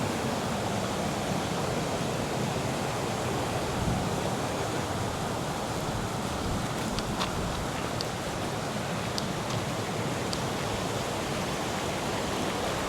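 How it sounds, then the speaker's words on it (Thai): A waterfall roars in a steady, dense rush of water near Chiang Rai, Thailand, loud and continuous throughout, with faint high clicks scattered over it. "น้ำตก"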